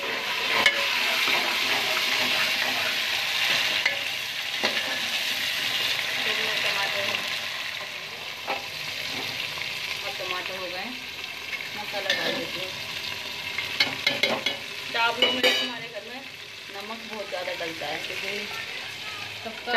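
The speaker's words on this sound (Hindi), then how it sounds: "अब टमाटर डालूंगी, प्याज हो गई है" Tomatoes and onions stirred and frying in a pan in a home kitchen: a constant hissing sizzle with scraping stir strokes and occasional clinks, while someone talks over it.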